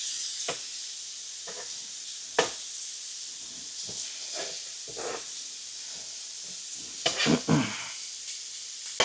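Ribeye steak pieces sizzling in a pan, a steady close frying hiss broken by sharp pops and spits, with a brief cluster of crackles near the end.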